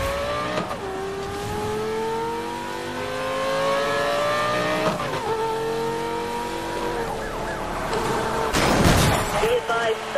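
A white Lamborghini Gallardo revs and accelerates through a Need for Speed Most Wanted police chase, its engine note climbing in repeated gear-change sweeps, with tire squeal near the end and radio-style voices talking over it.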